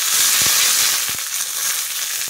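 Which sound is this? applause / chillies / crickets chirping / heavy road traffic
chillies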